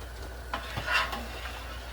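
Cranberry pepper jam with a little butter added bubbles in a pot while a spoon stirs it, giving soft, close scraping and gentle sizzling bubbles in a steady run with a couple of brief clinks.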